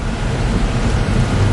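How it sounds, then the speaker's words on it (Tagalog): Heavy, unrelenting rain pouring down in Ilocos Norte during widespread flooding, a dense steady hiss and rumble that fills the whole stretch with no voices. "Yes, Mike, wala nang tigil ang pag-ulan dito sa Ilocos Norte"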